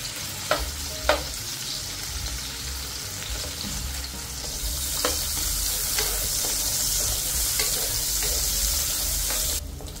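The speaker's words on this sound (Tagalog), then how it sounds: "Maglagay lang tayo ng mantika sa kawali at igisang hotdog" Hotdog sautés in hot oil in a pan, a steady close sizzle with a few sharp clacks of stirring near the start, rising slightly in intensity midway and running without speech.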